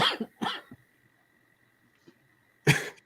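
A few sharp coughs up close, two quick bursts at the start, then a pause and one more loud cough at the end, with a faint tone humming underneath.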